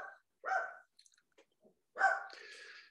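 A dog barks a few times in the background, two short harmonic bursts with faint scattered noises between, somewhat distant behind a quiet indoor setting.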